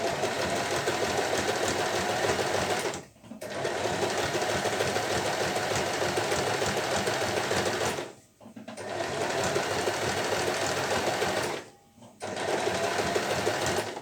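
A sewing machine stitching an ornamental quilted blanket, running in long continuous close bursts with three brief pauses where the needle stops at corners.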